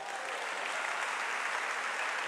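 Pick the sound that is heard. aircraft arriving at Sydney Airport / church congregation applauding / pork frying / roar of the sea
church congregation applauding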